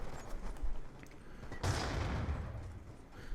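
Gunfire in a first-person shooter video game, with a sharp burst of shots and a loud crack, probably a sniper rifle, standing out above quieter rattling game sounds and a low background hum.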